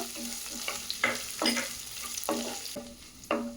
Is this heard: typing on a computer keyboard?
no